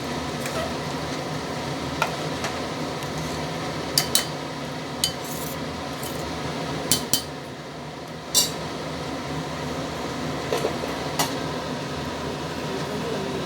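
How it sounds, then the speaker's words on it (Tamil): Rice being stirred into mutton biryani in a pot, a soft continuous simmering bubble with scattered light clinks and scrapes of a spoon against the metal, fairly quiet and close. "அரிசி போட்டுட்டு நல்லா மிக்ஸ் பண்ணி விட்டுடலாம்."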